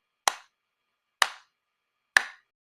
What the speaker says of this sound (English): if we clap or play for 3 beats